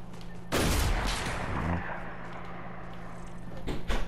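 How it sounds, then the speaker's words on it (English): Sniper rifle gunfire in the Fortnite video game: a heavy report followed by a second sharp shot, loud and close, set over steady game background noise. "That's a battle between snipers."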